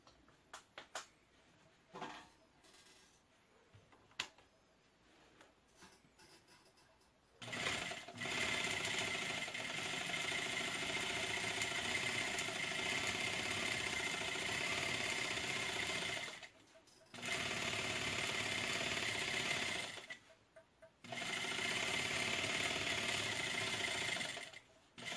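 A sewing machine stitches fabric along a chalk-marked line, running in long steady whirring bursts of rapid needle chatter, stopping briefly between runs, after quieter handling sounds at the start.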